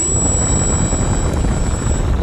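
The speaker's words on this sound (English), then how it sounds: "Okay, so today we're flying the T28 Trojan." A radio-controlled model T-28 Trojan airplane flies overhead, its engine a loud, steady buzzing drone with a thin high whine running throughout.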